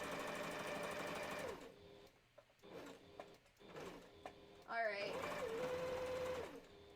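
A troublesome home sewing machine runs in steady mechanical bursts, loud and rhythmic, stopping and starting, with a short spoken word and a rising whine near the end.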